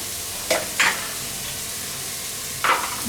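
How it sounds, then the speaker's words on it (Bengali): Cabbage and other vegetables fry with turmeric in a pan under a continuous even sizzle, with three brief scraping stirs standing out above it, close and with no speech. "তার মধ্যে আমি একে একে সব সবজিগুলো দিয়ে দিব আমি তার মধ্যে দিচ্ছি পাতা কপি"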